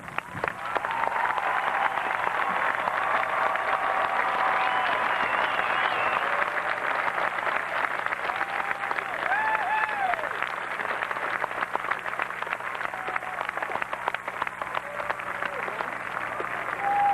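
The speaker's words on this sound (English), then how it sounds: "please rise to their applause" A graduation audience applauds steadily, a long wash of massed clapping filling the hall throughout, with faint voices and tonal sounds mixed underneath.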